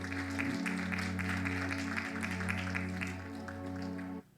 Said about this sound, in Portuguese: Dá uma salva de palmas ao Senhor Jesus, bem forte, para Ele.